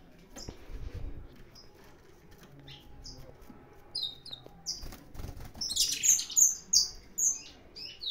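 Brazilian saffron finches, canário da terra, set loose in a breeding aviary sing in bright chirps and trills, sparse and faint at first and then building into a louder burst of song near the end, with no talk.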